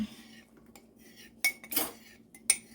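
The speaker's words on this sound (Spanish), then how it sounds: "Empezamos a revolver para que no se nos pegue." A utensil clinks and scrapes against a pot of thickening mixture on the stove, quiet between a few sharp metallic knocks near the end, no talking.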